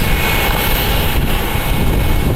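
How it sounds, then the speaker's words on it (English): A distant Embraer Phenom business jet inbound to Naples gives a steady, loud broadband roar that holds without a break throughout. "Got an Embraer Phenom inbound for Naples."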